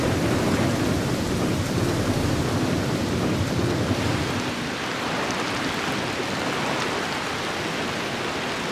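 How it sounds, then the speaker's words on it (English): Heavy rainy-season downpour with strong winds over the Kazinga Channel, a dense continuous roar of rain and gusts that eases slightly partway through, with no voices. "And with the rain"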